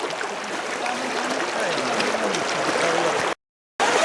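River water rushing through a freshly cut channel after a storm, a steady broadband flowing wash heard close and continuous, briefly cut off near the end.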